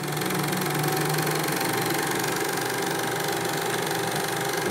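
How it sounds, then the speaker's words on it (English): A small engine runs on, a loud steady mechanical drone with a knocking rattle as its speed shifts up and down, with no talk. "Just so you can hear it speeding up and slowing down."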